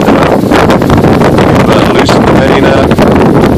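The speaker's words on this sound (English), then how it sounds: "the wind is blowing probably a good 20 knots in here" Strong wind of about 20 knots buffets the microphone on a boat, loud rushing gusts roaring continuously, with people speaking briefly underneath.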